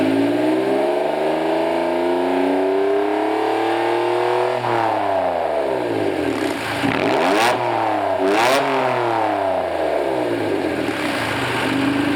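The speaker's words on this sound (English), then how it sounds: "I'm going to show you some exhaust rev action." A 1991 Honda NSX NA1 sports car engine revs repeatedly, its exhaust note climbing and falling in rising and dropping sweeps, loud and close with no talking.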